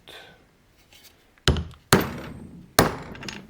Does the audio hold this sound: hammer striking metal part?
yes